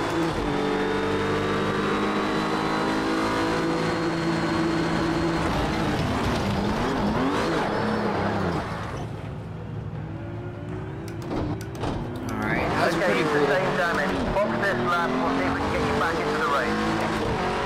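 Race cars piling into each other at turn 1 in the video game Project Cars 2, loud engines revving and tires squealing with scraping, thudding impacts, a brief lull, then more engine roar and collision noise.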